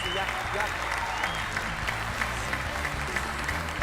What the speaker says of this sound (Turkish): Devrim Seyrek bir kez daha alkışlarla onu uğurluyoruz.